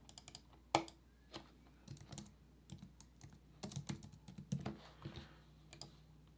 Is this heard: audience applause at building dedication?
no